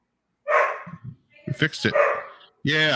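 Dog barking, a few short muffled barks and yips early on, then a louder clear bark toward the end, interspersed with people talking close to the microphone.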